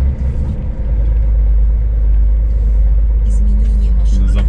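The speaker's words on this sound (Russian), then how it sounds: "Всегда машин много." Steady heavy road traffic with many cars streaming past, a constant loud low rumble of engines and tyres filling the scene throughout.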